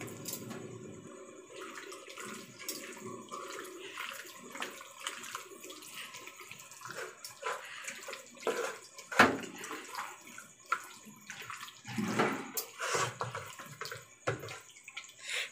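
Water is poured while rinsing the dish that held the spices for a marinated chicken recipe, heard as a continuous splashing, running wash with a few louder sloshes, close by and without talk.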